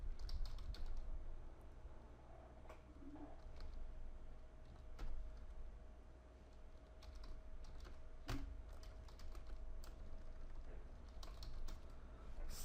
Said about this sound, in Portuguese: Vocês podem digitar esse comando aqui.